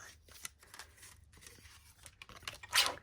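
A sheet of paper scrap is cut in half, with short snipping and rustling sounds close up and a sharper crisp tearing-like slice near the end.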